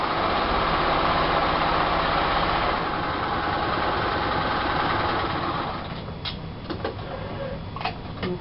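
A sewing machine stitches a paper-pieced seam in a steady, fast, motor-driven whir that runs continuously, then eases and turns into softer intermittent ticks and rustles near the end, close and fairly loud.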